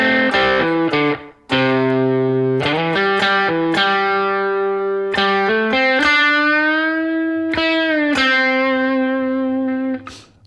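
Distorted electric guitar plays a solo section, a clean run of sustained, bent and vibrato notes with a brief gap near the start, loud and alone with no talking.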